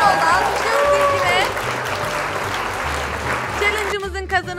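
A small group claps and cheers for the winner of a kids' chip-colour guessing challenge, steady applause for a few seconds that fades as voices take over at the end.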